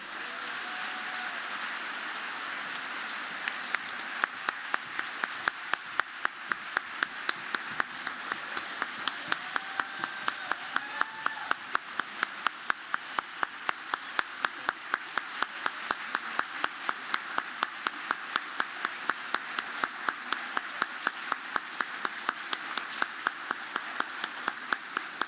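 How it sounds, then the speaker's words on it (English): A school event audience applauds student speakers in a large hall, sustained dense clapping that holds steady and fairly distant throughout, with faint voices now and then underneath. "Let's give them one more round of applause"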